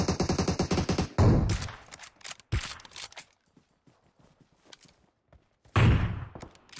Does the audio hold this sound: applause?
no